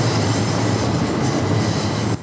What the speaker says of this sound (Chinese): 毋过暗时捷运试车甲进站的声音